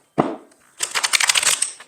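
Oversized tarot cards being shuffled by hand: a single soft flap, a pause, then a quick run of crisp riffling clicks, close and alone.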